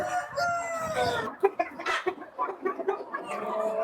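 Chickens cluck and crow nearby, including a mother hen, several short clucks and a drawn-out call, with light background noise and no talking.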